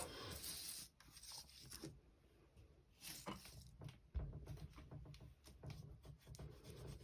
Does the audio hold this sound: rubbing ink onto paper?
yes